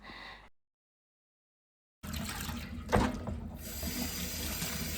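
Peeled aloe vera being rinsed under running water, with a short burst of tap flow, a sudden break into silence, then a steady splashing rush with a sharper splash partway through.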